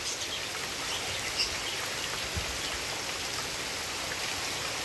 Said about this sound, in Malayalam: അതേണൊക്കെ മഴ പെയ്തുകൊണ്ടിരിക്കുന്നത് കേട്ടോ